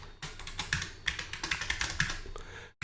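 Quick, uneven keystrokes clatter on an Amiga computer keyboard, a dozen or so close, crisp taps in a short burst before stopping.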